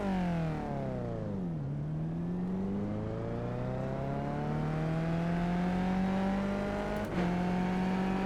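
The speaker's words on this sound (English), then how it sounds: "It's eventually jumping into the next gear when we get up to the rev limiter, but it's not letting us shift." A race car engine in the iRacing sim revs hard against the rev limiter, then its pitch drops sharply as it finally shifts and climbs steadily again, with a second quick shift near the end; loud, continuous and with no talking.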